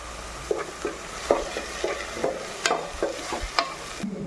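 Mushrooms fry in a pan with a teaspoon of ginger garlic paste, giving a soft sizzle as a spoon stirs and scrapes the pan again and again, close and quiet.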